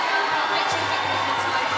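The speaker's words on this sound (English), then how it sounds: "applauding their team" Fans who stayed in the stands cheer and applaud Zimbabwe's netball team, the Mighty Gems, as they leave the court after a Netball World Cup 2019 match against Sri Lanka, a dense, steady crowd roar with scattered shouts.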